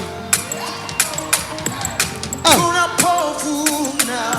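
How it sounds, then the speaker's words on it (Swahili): Wedding guests cheer and ululate in a lively crowd, with rising warbling trills around the middle and continued shouting and clapping-like bursts throughout. "Wapi vigelegele?"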